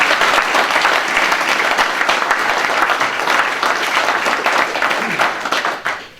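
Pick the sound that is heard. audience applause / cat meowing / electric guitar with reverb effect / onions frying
audience applause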